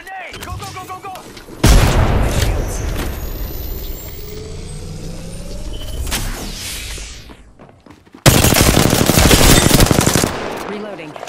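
A video game firefight with loud machine-gun bursts and a heavy grenade blast. Rattling fire starts abruptly, thins out, then a second hard-hitting volley erupts near the end, with voices faintly underneath.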